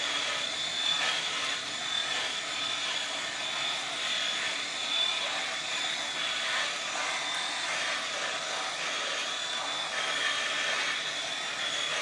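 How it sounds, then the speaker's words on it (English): An airplane passes by outside, a steady broad roar holding at a constant level throughout, with no talk. "there's a plane going by outside"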